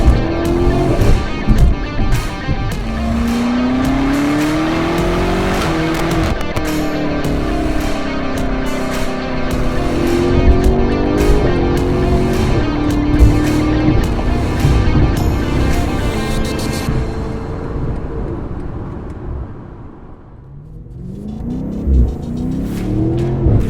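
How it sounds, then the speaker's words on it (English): BMW F90 M5 with its S63 twin-turbo V8 screaming to high RPM, loud and continuous with rising pitch sweeps through gear changes, then a brief lift-off before the engine pulls again. "those higher RPMs, it just screams"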